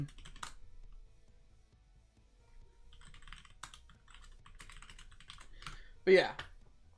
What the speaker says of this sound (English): I'm typing in group chats.